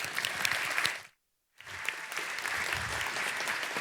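Audience applause for a conference speaker, dense clapping that drops out abruptly for a moment, then resumes and continues steadily.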